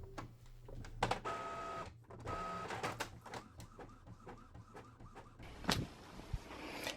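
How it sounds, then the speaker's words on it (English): An inkjet-style desktop printer feeds and prints a sheet of paper for a Cricut print-then-cut project, giving whirring motor passes and repeated mechanical clicks and clunks, fairly close and steady, with no talking. "I'm going to turn my paper around this way in the printer and print the other 8"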